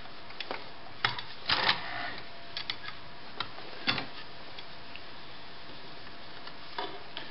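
A New Home model 900 sewing machine makes single slow stitches with fabric moved between them, giving sparse, faint, irregular mechanical clicks and thunks over low background hiss.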